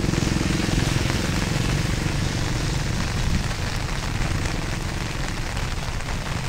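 Steady rain falls throughout during a tilapia fishing outing in Bulacan, a dense even patter close by with a low rumbling undertone, no voices.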